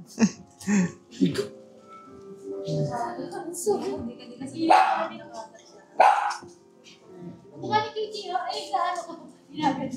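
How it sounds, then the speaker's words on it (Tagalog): Small dogs bark in short, sharp bursts close by, mixed with people talking over them. "Cute din pala maliliit na aso."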